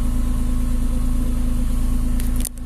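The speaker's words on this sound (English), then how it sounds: "Let's get closer so you can take a good listen to that sport exhaust." A 2006 Porsche 911 Carrera 4S coupe with sport exhaust idles steadily with a deep, even low-end rumble, heard up close from outside the car, with a brief clunk near the end.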